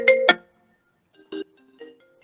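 A phone ringtone plays in a quiet room, a few short bright electronic tones: two quick loud notes, then a pause and softer, lower tones trailing after.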